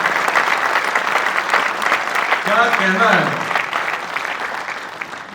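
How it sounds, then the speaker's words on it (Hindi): Applause from an audience at a Hindi poetry recital, part of an all-India kavi sammelan, fills the whole stretch as a steady, dense clatter, with a voice speaking over it midway. "जोरदार तालियां हमारे अक्षर के लिए।"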